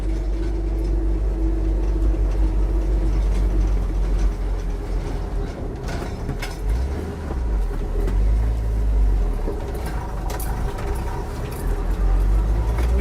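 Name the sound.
1967 Ford F-100 truck driving uphill with manual clutch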